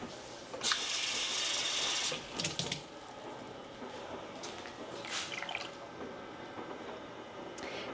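Water poured into a measuring cup while canning a small batch of beets for pickling, a bright splashing burst followed by quieter trickles and drips, close and alone.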